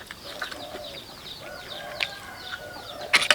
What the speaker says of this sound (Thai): จักเสียงนกเสียงไก่พี่น้องเลย